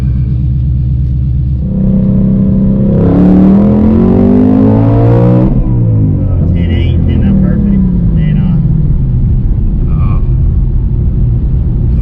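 A boosted 2021 Ford Mustang Mach 1 engine swells into a loud, rising rev as it accelerates, then falls back to a steady low rumble with some faint background sounds.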